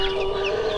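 Pelung chicken calling, a sustained tonal crow-like note with overlapping clucks from nearby fowl, loud and close, no talk.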